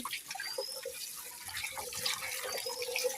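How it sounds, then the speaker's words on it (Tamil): Water from a hose splashes and runs while a fish tank is rinsed clean. The flow is continuous and moderately loud, and small drips and gurgles break through the wash. "இப்போ இந்த தண்ணிக்கே இப்போ நம்ம ஓஸ் வச்சு தான் இதை க்ளீன் பண்ண போகிறோம்"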